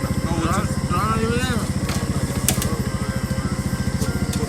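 A motorcycle engine idles steadily at close range with a fast, even throbbing pulse while people talk over it.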